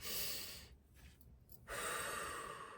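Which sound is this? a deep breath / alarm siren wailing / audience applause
a deep breath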